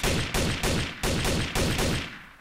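Gunfire in the game Trouble in Terrorist Town: a run of about six loud, heavy shots spaced roughly every third of a second, each burst with a decaying tail, close and dominating with no talk over it.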